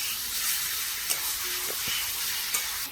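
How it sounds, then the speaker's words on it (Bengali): Chicken meat stirred in a hot pan, a steady close sizzle with a few scraping clicks from the utensil moving the pieces around, loud and continuous with no talking. "এই দেখো দিয়ে দিচ্ছি, ভালো করে নেড়ে চেড়ে দিচ্ছি।"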